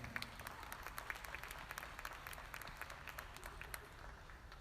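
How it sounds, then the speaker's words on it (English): Audience applause at a dairy livestock show in the New Holland Arena, a steady, fairly faint wash of many hands clapping in a large indoor space, with sharper individual claps standing out. "Round of applause."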